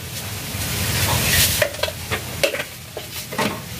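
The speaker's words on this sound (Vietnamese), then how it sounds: "xào dưa" Pickled mustard greens stir-fried in a hot pan with steady sizzling, a spatula scraping and tossing in sharp repeated strokes, fairly close and loud, without talk.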